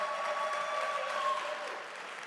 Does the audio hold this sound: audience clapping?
yes